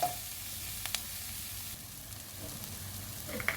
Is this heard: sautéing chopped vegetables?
yes